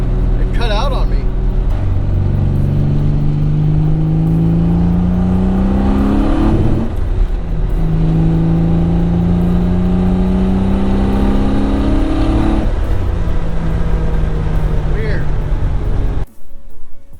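A fully built Nissan 300ZX engine rises in pitch as it builds boost under load, droning loud and continuous, then stumbles and cuts out before revving again, with brief talk over the engine noise.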